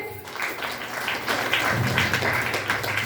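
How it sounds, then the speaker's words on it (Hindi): Audience applause for a respected teacher at a Hindi-speaking stage event, a steady dense patter of many hands swelling slightly louder midway and holding. "हमारे सर के लिए जोरदार ताली चाहिए"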